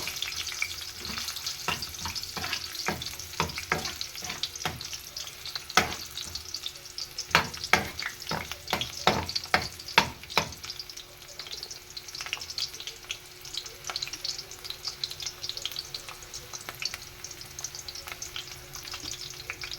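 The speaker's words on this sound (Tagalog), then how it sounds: "dahil mabango na ang ating sibuyas at bawang" Onion and garlic sauté in a pan with a steady sizzle, broken through the first half by a run of sharp spatula scrapes and knocks, then settling into an even, moderately quiet fry.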